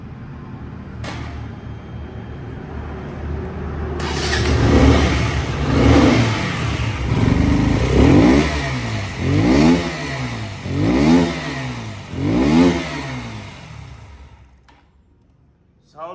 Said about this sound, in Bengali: এখন এই বাইকটির সাউন্ড কোয়ালিটি শোনাবো